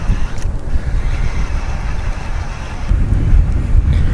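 Strong wind buffets the microphone in a steady loud rumble during bass fishing from a boat on open water, surging louder near the end, with no talking.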